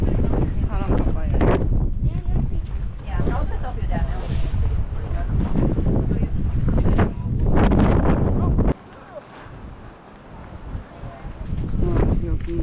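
Strong gusting wind in Hakodate, Hokkaido buffets the microphone with loud low rumbling roar, easing briefly then returning, while voices talk underneath.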